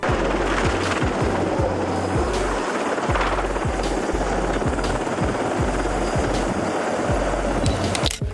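A loud helicopter landing on a ship thrums steadily throughout with rapid rotor chopping, its low pulsing beat dominating, with a rushing wind-like roar over it.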